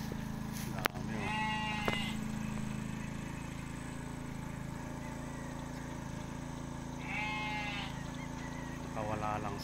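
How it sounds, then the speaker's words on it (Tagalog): Farm sheep bleat twice, each a drawn-out wavering call at moderate distance and spaced several seconds apart, over a steady outdoor background hum, with a voice talking at the end. "Yung tupa."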